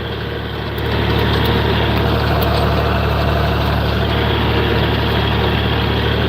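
A farm tractor engine idles steadily nearby, a low constant rumble with a continuous hum that holds unchanged after a slight rise in level early on.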